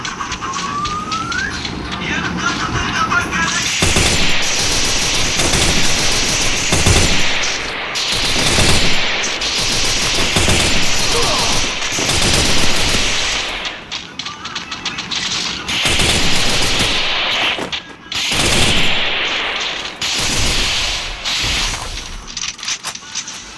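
Loud, dense bursts of automatic gunfire and blasts from the Free Fire mobile game run almost continuously, broken by short pauses.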